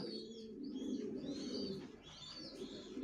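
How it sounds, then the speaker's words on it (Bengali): Racer pigeons in a loft give soft, repeated cooing and light chirps, fairly quiet and continuous, heard alone without voices. "সব আল্লাহর রহমতে আমার লফটে কবুতর সবগুলোই সুস্থ আছে"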